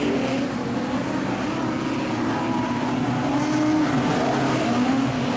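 Modified sedan race cars thunder around the dirt oval at Kingaroy Speedway, with several engines roaring together in a steady, loud, close drone as three cars run side by side for the lead.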